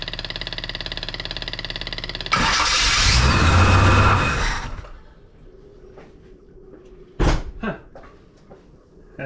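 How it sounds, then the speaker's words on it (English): A 1978 Reliant Scimitar engine cranks with a rapid starter whir, then catches and fires into a loud, rough run that fades away, followed by a few sharp clunks and a quieter idle. "It apparently started right up."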